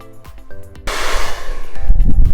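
A hair dryer blasts onto freshly painted glow-in-the-dark wall paint, switching on abruptly into a loud, steady rushing roar after a moment of quieter handling sounds.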